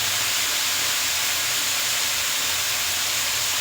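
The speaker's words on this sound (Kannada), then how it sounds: "ಎಣ್ಣೆ ಒಗ್ಗರಣೆಗೆ ಹಾಕ್ತಾ ಇದೆಯಲ್ಲ ಫ್ರೆಂಡ್ಸ್" Hot oil sizzles with a steady, close hiss while spices are tempered for a village-style rice upma with field beans. The sound continues unbroken with no talking.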